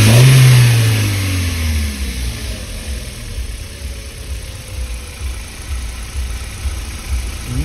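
Audi A4 B5 car on a test drive, engine roaring loudly as it revs at the start, then settling into a lower, steady drone of driving with road rumble for the rest.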